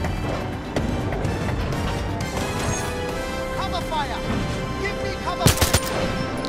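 Gunfire in the James Bond 007 Legends video game, a loud cluster of sharp shots near the end over a constant busy game soundscape, with a voice talking throughout.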